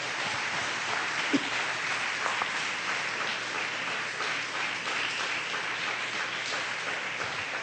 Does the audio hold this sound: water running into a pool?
no